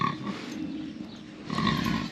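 Pigs on a farm give low, rough grunts close by, a soft rumble at the start and a louder cluster of grunts near the end.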